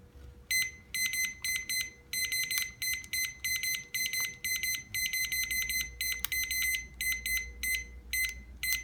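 An espresso shot timer beeps loudly in rapid, evenly spaced bursts of high electronic tones, with a faint low hum underneath and no voices.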